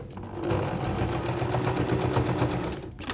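A sewing machine stitches through quilt fabric for a patchwork plus-sign quilt, a fast, even mechanical whirr that runs steadily for a few seconds, close and clear.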